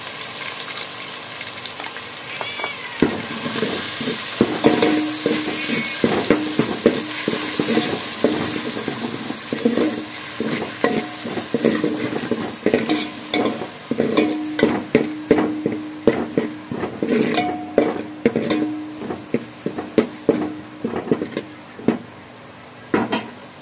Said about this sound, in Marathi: त्यात आता हे आलं, लसूण, हिरवी मिरची, कोथिंबीर पेस्ट